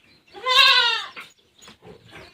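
A goat bleats once, a loud wavering call up close, followed by quieter rustling and shuffling noises.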